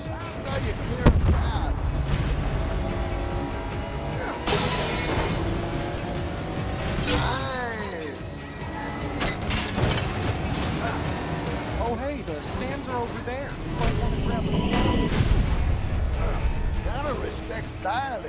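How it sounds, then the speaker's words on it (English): Rockets burst around racing cars in the Cars 3: Driven to Win video game, a dense run of booms and whooshes over constant engine roar. Excited voices talk throughout. "Oh no! Rockets!"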